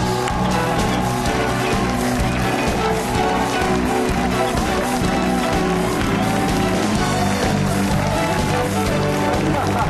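Studio audience at a Mexican late-night TV show applauding and cheering to welcome a guest onstage, a dense, loud, continuous roar of clapping and shouts mixed with band music throughout.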